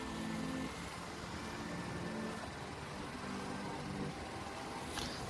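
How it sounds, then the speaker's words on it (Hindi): A BMW 310 RR motorcycle ridden off-road on a rough rural track, its engine a steady, close droning rumble mixed with wind and road noise throughout. "हमारी गाड़ी की ऑफ रोडिंग हो गई भाई, BMW ये 310 RR की ऑफ रोडिंग।"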